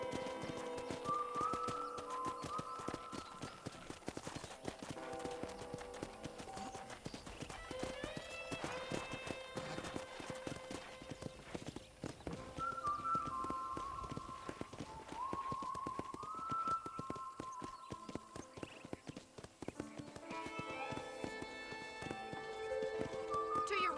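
Steady hoofbeats clip-clop at a gallop throughout in Red Dead Redemption, with occasional whinnies and a bright musical score playing over them.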